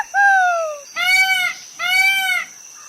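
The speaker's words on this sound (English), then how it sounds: "Peacock." Three loud, drawn-out peacock calls, each a harsh nasal wail with a falling pitch, repeated at an even pace against a faint steady high tone.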